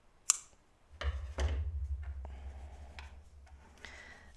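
Scissors snip through white crochet yarn while an amigurumi bride doll is being made, giving a few crisp, close cuts against a low background hum.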